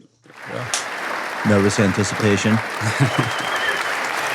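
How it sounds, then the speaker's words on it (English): A studio audience or crew claps in a burst of applause to open a news-comedy podcast episode, a broad steady roar of hands with a person talking over it. "Let me come in with the claps."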